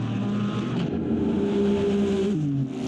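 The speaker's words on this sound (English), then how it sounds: "There goes that Mustang." GT race cars, including a Corvette and a Mustang, roar past at the Bahrain circuit with a loud, steady engine drone whose pitch shifts near the end of the pass.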